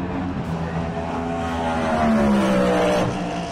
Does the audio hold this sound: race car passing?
yes